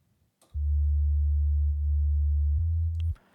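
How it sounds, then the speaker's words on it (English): A deep, smooth sub bass synth tone holds steady for about two and a half seconds, with a brief pitch change near the end, then cuts off. "a sub bass which sounds like this."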